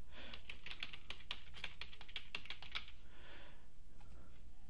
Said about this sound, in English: And when I click, it allows me to type a note.